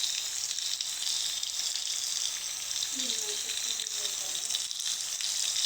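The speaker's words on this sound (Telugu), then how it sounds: "Beans, carrot, cabbage, mushroom, onion వేసేసామండి. కొంచెం వేగినాక మసాలాలు వేసేస్తాం." Beans, carrot, cabbage, mushroom and onion sizzle steadily in a pan, a constant hissing fry heard close with faint clinks and a brief murmur in the background.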